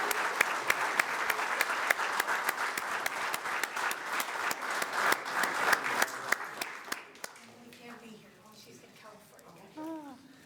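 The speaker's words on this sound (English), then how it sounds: "Let's give them a hand." Awards ceremony audience at a scholar-athlete presentation clapping in a loud, sustained round of applause for about seven seconds, then fading into scattered claps with voices talking faintly underneath.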